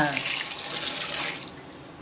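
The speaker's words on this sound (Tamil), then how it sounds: "ஒரு பாத்திரத்தை அடுப்பில் வச்சு தண்ணியை ஊற்றி" Water pours steadily into a cooking pot on the stove with a soft, hissing splash, close and fairly even, ending with a brief clink.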